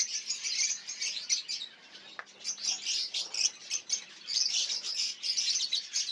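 Pet lovebirds, including Personata and Ino lines, chirp and tweet continuously in a dense, high, bright chatter close by, with a few louder calls standing out.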